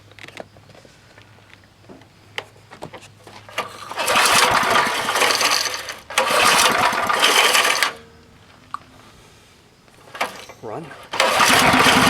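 An old 1990s Craftsman 2400-watt portable generator being pull-started: several bursts of engine cranking and sputtering roar, each a couple of seconds long, separated by pauses, with a voice talking briefly between attempts.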